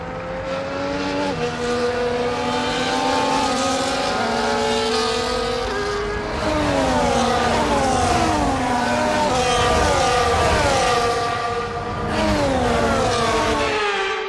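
Formula 1 race cars on a formation lap in the video game F1 24: continuous, loud engine whine with overlapping rising and falling revs as several cars accelerate and shift, steady and without voices.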